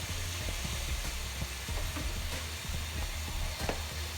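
Diced carrots hit a hot pan for a smoked turkey pasta bake, producing a steady soft sizzle with scattered clicks and light knocks from stirring, close and moderate in volume.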